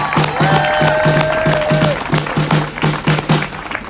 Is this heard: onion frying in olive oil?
no